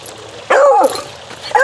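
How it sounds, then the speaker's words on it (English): A pet dog barks sharply up close, one loud bark and then a shorter one, outdoors in a garden amid faint background noise. "I apologize for the noisy pooch. She's not happy."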